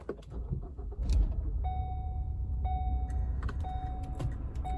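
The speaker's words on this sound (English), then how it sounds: "Cars are just not as fun to start anymore when you're just pushing a button." A push-button car start during a thrift shopping stop: short electronic chime tones ring out repeatedly over a steady low engine rumble, with a brief rustle or clunk near the start.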